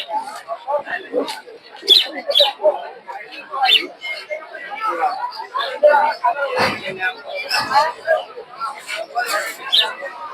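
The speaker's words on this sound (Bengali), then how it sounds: "এদিকে দেখতে পাচ্ছেন বিভিন্ন ধরনের কবুতর এখানে গিরিবাস দেশি নানা ধরনের কবুতর পাবেন" Pigeons of various breeds, including local and Giribaz types, coo at a busy open-air livestock and bird market, their soft cooing mixed with chirps and crowd chatter while someone talks over it.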